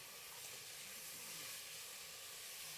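Rice sizzling in oil in a pot on the stove, a steady, even hiss that holds for several seconds with no talk over it.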